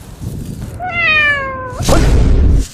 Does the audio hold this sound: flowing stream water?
no